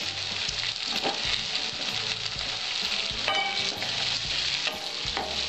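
Chopped onion pieces fry in hot oil with green chilli, a steady bright sizzle with occasional stirring scrapes, close and continuous, no voices.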